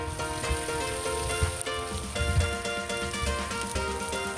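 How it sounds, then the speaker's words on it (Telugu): Mutton and liver frying in a pan, a dense sizzle under a busy layer of background music, steady throughout with occasional soft stirring thumps. "ఒక 2-3 నిమిషాల పాటు అడుగంటకుండా అలాగే వేయించుకుంటూ ఉండాలండి"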